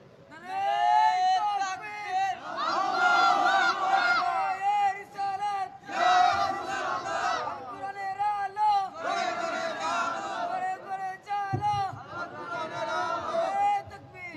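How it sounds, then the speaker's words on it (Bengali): A large crowd at an Islamic religious sermon gathering shouts takbir in loud, repeated collective bursts, each swell of voices rising and falling in waves over about fourteen seconds, with babble between the chants. "কে আছেন জোরে সোরে তাকবীর হবে এবার"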